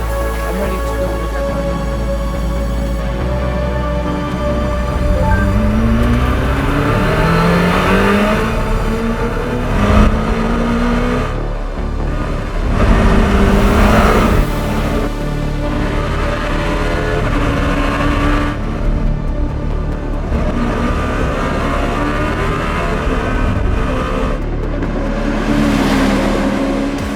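Czinger 21C hypercar accelerating out of a corner at Laguna Seca Raceway, its engine note climbing steadily through several gear changes, loud and close, with a driver's voice heard now and then over it.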